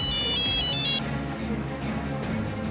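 A phone rings with a short electronic ringtone for about a second, announcing a call from the police to a landowner working in his fields, followed by quieter background sound.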